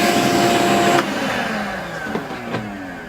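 A vacuum cleaner sucks up dust left by milling a PCB on a Modela desktop mill, a steady loud whooshing drone that drops in level after a second and continues with faint clicks and knocks of the nozzle.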